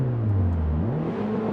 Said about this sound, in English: backfire noise off the throttle.